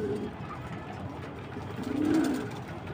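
Pigeons coo inside a coop at dusk as birds settle into their nest boxes, with a low murmuring coo swelling near the end against a steady hum of background noise.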